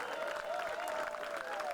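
Opening ceremony audience clapping and stomping their feet, a dense steady applause with a sustained cheer underneath, moderately loud and continuous throughout.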